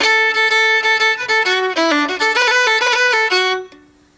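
Fiddle plays a quick phrase with a roll ornament on the notes in an Irish slide tune, bright and close, the bowed notes ending with a short ringing decay.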